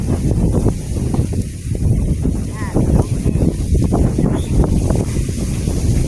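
Strong wind buffets the microphone outdoors in rural Thailand, with a constant heavy rumbling roar for the whole stretch and faint tones underneath.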